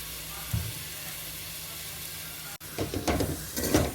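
Tomatoes and curry leaves cook with salt and masala in a pan, giving a soft steady sizzle and hiss that grows busier with stirring clatter toward the end.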